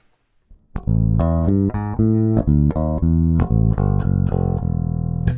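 A Bogart Karl Clews Signature Broadsword bass guitar in a clean passive tone plays a steady run of plucked low notes, close and full, after a couple of faint taps.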